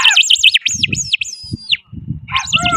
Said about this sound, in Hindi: परली साइड कबूतर उड़ गए